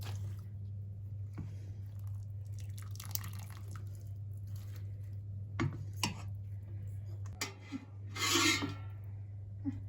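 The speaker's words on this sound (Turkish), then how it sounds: "Ben bunu şimdi bol bol yıkamam lazım." Tripe being washed by hand in water for a fried tripe dish: wet squishing, sloshing and dripping in scattered bursts, close and fairly quiet over a steady low hum.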